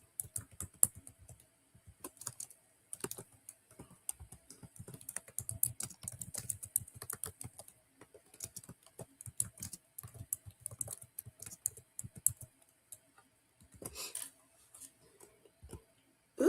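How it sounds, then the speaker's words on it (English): Someone types on a computer keyboard in quiet, uneven bursts of soft key clicks, with short pauses between runs, close and faint. "I'm gonna type into the chat."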